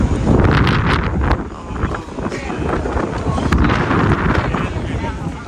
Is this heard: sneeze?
no